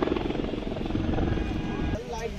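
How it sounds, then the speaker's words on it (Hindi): A helicopter's rotor thrum pulses steadily overhead at moderate distance on the foggy Kedarnath pilgrimage route, fairly faint, with a brief dip near the end. "देखो हेलीकॉप्टर।"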